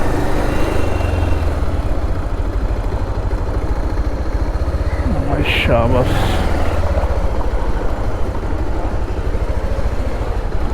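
Motorcycle engine idling while the bike is parked and pushed inside, a steady low rumble running throughout beneath close talk, with a brief voice exclamation midway.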